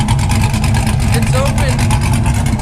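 A 500 hp Chevrolet Silverado 6.0 V8 rumbles loudly and close with its QTP exhaust cutout open, a deep steady pulsing idle throughout.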